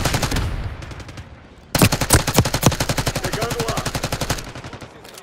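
Rapid automatic gunfire from the video game Call of Duty Black Ops 6, loud and close, with a stretch of fast rhythmic bursts and a few sharper shots layered over a dense rattle.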